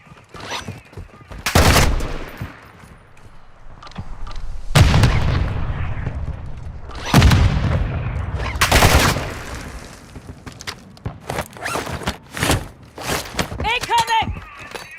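Video game gunfire: heavy bursts of automatic fire and booming shots in irregular clusters, loud and close, with several sharp cracks and explosions across the clip and voices speaking in between.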